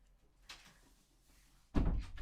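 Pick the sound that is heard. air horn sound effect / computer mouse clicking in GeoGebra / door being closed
door being closed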